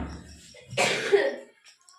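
A single harsh cough, close and fairly loud, after a brief quiet moment.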